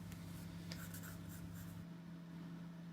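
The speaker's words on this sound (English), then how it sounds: "I'm going to be using Master Touch woodless charcoal pencils." A woodless charcoal pencil scratches across sketching paper in a continuous soft scraping stroke, close and quiet, then eases off near the end, with no voices.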